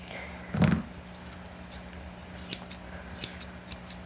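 Grooming scissors handled while a Shih Tzu is groomed: a clunk as the scissors are set down, followed by several quick, light metallic snips spaced irregularly nearby.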